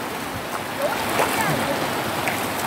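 Sea water washes steadily around a small boat out on open water off Samar, a continuous moderate hiss and slosh with faint voices in the background.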